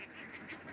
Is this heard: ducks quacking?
yes